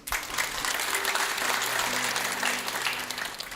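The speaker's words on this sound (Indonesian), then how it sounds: "Beri tepuk tangan." Audience in a church sermon gives a round of applause, steady moderate clapping from many hands lasting a few seconds, fairly quiet overall with a faint sustained tone beneath.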